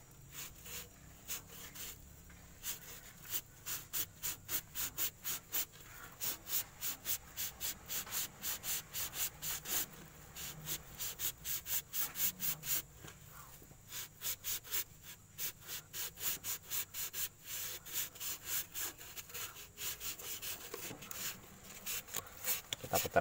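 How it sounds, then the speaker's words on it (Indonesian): Scrubbing a leaking Suzuki Carry Futura brake piston wet with gasoline: close, rhythmic rubbing strokes repeat in quick regular bursts for over twenty seconds, with a quiet background hum and no speech. "Kita kasih bensin dulu di atasnya. Seperti ini, kita kasih bensin di atasnya. Lalu kita gosok lagi."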